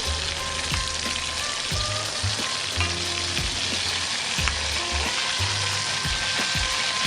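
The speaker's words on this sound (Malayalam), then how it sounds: "ചിക്കൻ്റെ ഓരോ സൈഡും നമ്മൾ 2 റൗണ്ട് വറുത്ത് എടുക്കണം" A whole chicken fries in hot oil, giving a loud, continuous close sizzle with a low bubbling rumble and occasional stirring knocks, with no voices.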